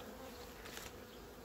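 Honeybees buzz around an opened six-month-old hive, a soft continuous hum of many bees, with one louder, higher buzz as a bee passes close to the microphone.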